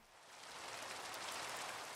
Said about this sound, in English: There is no rain, and the rain has sound.